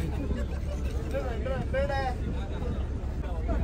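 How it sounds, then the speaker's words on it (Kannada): A passenger boat's engine drones low and steady at sea off Malpe beach on the way to St Mary's Island, with wind noise and people chatting over it. "ಬೋಟ್ ಓಡ್ತಾ ಇದೆ"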